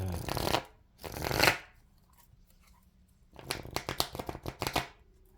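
Tarot cards being shuffled by hand in several bursts: two quick riffles, a pause, then a longer run of rapid crisp flicking, fairly close and without talk.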